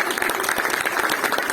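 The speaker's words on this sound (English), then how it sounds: "Yes, give her a clap." A room full of people at a school annual awards day claps steadily, a dense patter of hand claps with a faint voice underneath.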